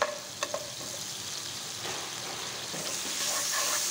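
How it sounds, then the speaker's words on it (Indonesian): Onion sautéing in butter in a pan, a soft steady sizzle with a few light clicks of stirring near the start, close and continuous with no voices. "Kita tumis sampai harum."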